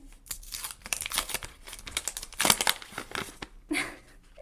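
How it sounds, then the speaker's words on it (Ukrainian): Crinkly plastic packaging is rustled and torn open up close, a continuous busy crackle with sharper rips, no talking. "Відкриваємо пакетик з квадроберами нарешті."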